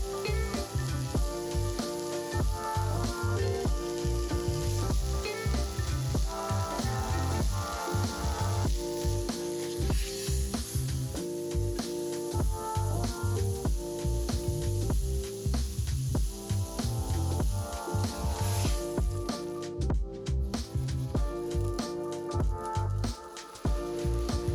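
A fried pickle burger patty sizzles in hot oil for a long stretch, giving a dense, crackling hiss over steady music.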